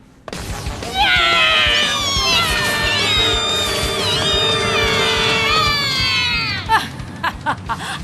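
Cartoon cats meowing in a loud, sustained chorus of wavering, overlapping yowls that rise and fall for several seconds, ending with a few short, sharp bursts.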